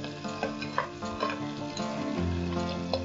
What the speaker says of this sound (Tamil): கருவேப்பிலை, பட்டை, கிராம்பு, அதுக்கப்புறம் வெங்காயம் சேர்த்துருக்காங்க. சேர்த்து நல்லா இப்போ வதக்கிட்டு இருக்காங்க.